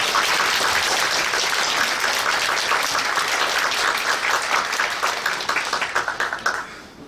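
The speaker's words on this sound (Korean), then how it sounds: "다 같이 뜨거운 박수를 하겠습니다" A church congregation at an elder ordination and installation service applauds warmly. Dense, sustained clapping fills the hall, then thins into a few separate claps and fades near the end.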